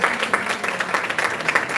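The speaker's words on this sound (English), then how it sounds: "Give her a round of applause." Audience applause for an honoured Jamaican guidance counselor at a recognition ceremony, a steady spread of clapping filling the short stretch at moderate level.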